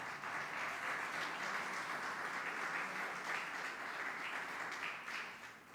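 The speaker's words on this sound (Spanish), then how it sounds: "déle ofrenda de palmas al Señor, por favor" A church congregation gives a sustained round of applause during a Sunday service, dense steady clapping that fills the room evenly before thinning out at the end, with no talk over it.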